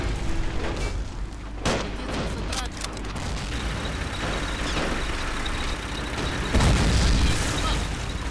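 Anti-tank cannon fire and explosions in the war strategy game Men of War: Assault Squad 2, sharp blasts scattered among rumbling engine noise, with a heavier boom near the end under a busy battle din.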